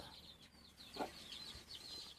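Brooding hens sitting on eggs make soft, low clucking sounds close by, a few quiet, scattered calls over faint background noise.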